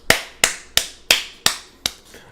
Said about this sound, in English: That's a clap for that.